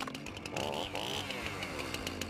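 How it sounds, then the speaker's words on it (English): A chainsaw in a political ad revs up and down over its running engine, loud and close, with no voices. "My chainsaw's ready to rip up some regulations."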